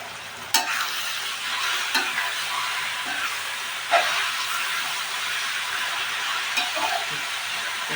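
A kilo of large shrimp hit a hot pan and sizzle steadily, a bright continuous frying hiss broken by a few sharp clinks and stirring knocks.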